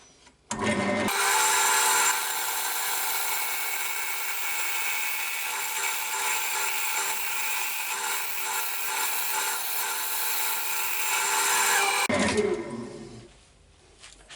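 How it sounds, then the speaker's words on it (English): A wood lathe runs with a roughing gouge cutting a spinning blank, giving a steady, loud, continuous hiss and scrape of tool on wood that holds for about eleven seconds before stopping. "If you're using one of these roughing gouges, just go nice and gentle and keep moving the tool rest in so it's nice and close to the work."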